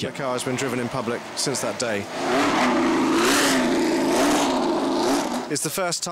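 An old Lotus monocoque racing car's engine revs in sharp bursts, then settles into a loud, sustained drone as it drives past close by at Goodwood Festival of Speed, with talking over it.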